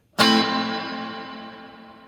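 A single electric guitar chord rings out clean and bright, then washes away in a long, heavy reverb tail that fades slowly.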